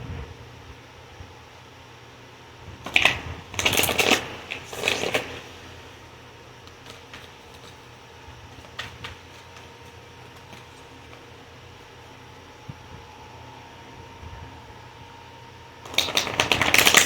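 Tarot cards slide and riffle in a few short bursts near the start and again at the end, close and fairly crisp, with quiet room tone in between.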